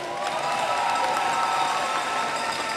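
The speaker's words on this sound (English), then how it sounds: "One more round of applause." A large audience at a 2025 high school graduation ceremony gives a steady round of applause, dense and continuous with faint cheering mixed in.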